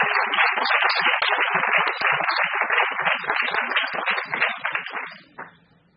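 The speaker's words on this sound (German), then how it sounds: "Applaus für unsere Förderer." Audience applause for the sponsors at a community show, a brisk clatter of many clapping hands that holds steady for several seconds and then quickly dies away to quiet room sound.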